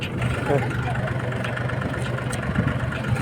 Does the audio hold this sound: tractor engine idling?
yes